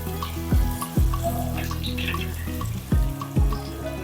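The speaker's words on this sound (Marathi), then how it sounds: "आधी आपण असेच परतून परतून बटाटे क्रिस्पी करणार आहोत" Potato pieces are tossed and stir-fried in a hot pan until crisp, with a continuous sizzle and hiss broken by several sharp scraping clanks of a spatula against the pan.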